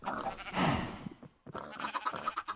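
Sheep bleating in the video game Minecraft, a wavering bleat close up and fairly loud, followed by busy game sounds and clatter after a brief pause.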